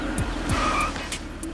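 A car braking to a stop makes a couple of short, falling tire squeals over a low engine rumble, with faint higher squeaks scattered through.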